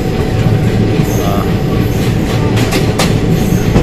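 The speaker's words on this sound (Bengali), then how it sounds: "ট্রেন আমাদের এখন চলেছে রাজামুন্দ্রির দিকে।" The Amaravati Express runs toward Rajahmundry with a loud, steady rumble and rattle of carriages, faint wheel squeals and clatter, recorded from on board, no talking.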